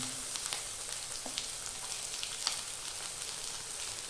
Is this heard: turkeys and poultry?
no